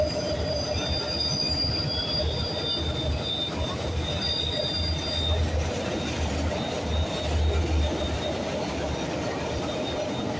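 A BNSF freight train rolls steadily past at close range at Galt, its wheels squealing continuously over a constant loud rumble of railcars, with faint clatter mixed in throughout.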